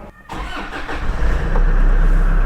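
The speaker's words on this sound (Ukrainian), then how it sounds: "Ну, як завелась машина, взагалі круто." A Volkswagen Passat bought at auction cranks and fires up close by, the starter's brief churn giving way to a steady, loud running engine hum with no talking.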